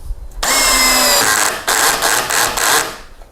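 A Doliz BD637 20V cordless brushless drill drives a screw into a countersunk hole, a loud, close high-pitched motor whine that pulses in several short bursts as the trigger is worked, lasting under three seconds.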